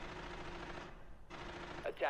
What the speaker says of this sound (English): There you can hear the gunfire now being exchanged between both teams